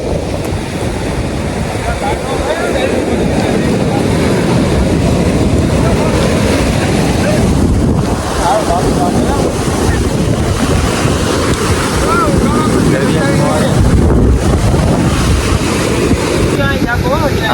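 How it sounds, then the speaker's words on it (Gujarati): Sea waves surging and washing onto the shore, a loud continuous roar with heavy wind buffeting the microphone throughout. "એ પાણીનો મોજો આવ્યો કે તો પાણીના મોજા થોડાક"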